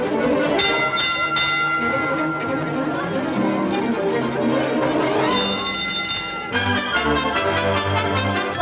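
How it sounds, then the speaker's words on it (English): A trolley bell clangs repeatedly amid a brassy orchestral accompaniment from a film musical, bright metallic strikes ringing out over loud music. "Ding, ding, ding, went the bell."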